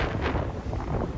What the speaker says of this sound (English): Wow, this wind is crazy.